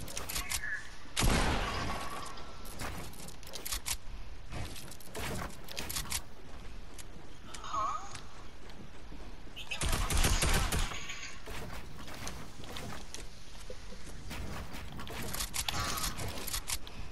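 Rapid bursts of gunfire in the Fortnite video game come in several loud, clustered volleys with a prominent burst near the start and another around the middle, over a constant game soundscape.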